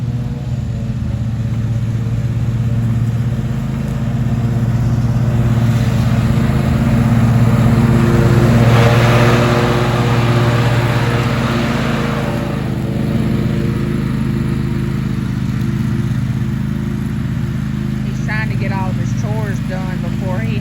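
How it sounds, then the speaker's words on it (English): A zero-turn lawnmower cuts grass on an acre lot, its steady engine drone holding close and loud from start to finish, swelling slightly midway before settling again. "now that he's got his zero-turn lawnmower"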